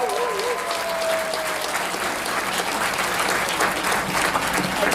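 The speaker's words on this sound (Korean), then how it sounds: "두 분 더 앞으로 힘내시라고 응원의 박수 한번 보내주시죠." A room full of people at a book launch event claps steadily for several seconds in dense, even applause, with a faint tone briefly audible near the start.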